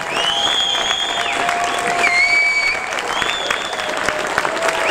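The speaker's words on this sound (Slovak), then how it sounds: "veľký potlesk." Applause from a large outdoor audience at a Slovak folk accordion (heligonka) festival after an ensemble's performance, steady clapping beneath sustained tonal music-like sounds, fairly loud and continuous.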